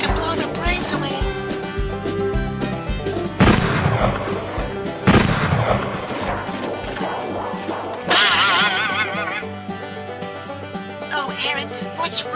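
Gunshots in a comedy skit, a few loud booming bangs over busy background sound and music, spaced a couple of seconds apart.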